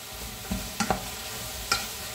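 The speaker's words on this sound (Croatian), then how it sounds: "Sad smo luk dodali. Sve na laganoj vatri pržite." Chopped onion frying gently over low heat in a pan, a soft continuous sizzle with a few clicks of stirring, no talk.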